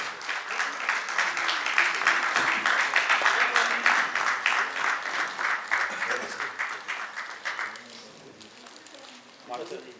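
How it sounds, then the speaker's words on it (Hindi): Loud, dense audience applause rings through an auditorium at the close of a theatre festival, sustained for several seconds before thinning out and fading near the end. "तो ये तालियां आपके लिए जोरदार।"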